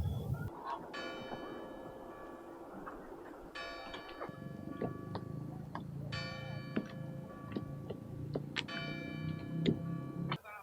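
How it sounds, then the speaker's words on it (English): Nearby bells ring in a slow, evenly spaced series, each strike bright and ringing on over a faint background hum. "Nine bells, 9 a.m."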